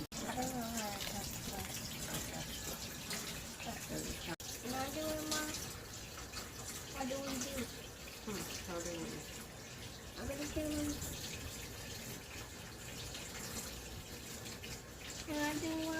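Running tap water splashes steadily over hands being washed at a kitchen sink during home cooking, a continuous close gush with a child's and an adult's voices talking over it.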